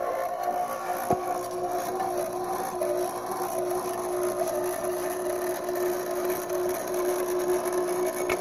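A Mattel Power Shop shaded-pole AC induction motor runs with a steady, continuous hum and whir at close range, alone with no talking.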